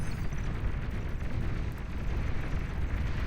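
Missile trucks firing and explosions in the strategy game Beyond All Reason, a dense, low rumbling barrage of booms and bursts running without a break at a moderate, distant level.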